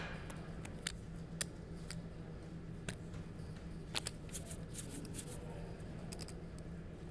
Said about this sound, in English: Lots of card shuffling from Wasserson before checking again.